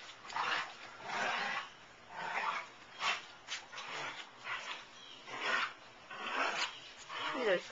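Dogs play and whimper, with repeated bursts of rough rubbing and scuffling in an uneven rhythm, heard up close.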